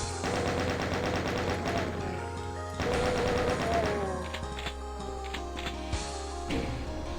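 Chain gunners in the shooter game No Rest For The Living fire rapid, sustained bursts, dense and loud, layered over a low rumbling game soundtrack with a brief pause in the middle.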